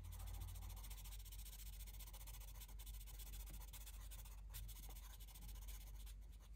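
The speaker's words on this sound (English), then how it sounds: "I'm going to use the blender pencil," Blender pencil rubbing over coloured pencil on paper in an adult colouring book, a steady soft scratchy rub that continues close up with no talk.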